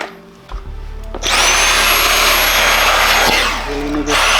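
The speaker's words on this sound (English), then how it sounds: "Use a vacuum." A vacuum cleaner switches on with a rising whine and runs loudly and close, dipping briefly before surging back to full power.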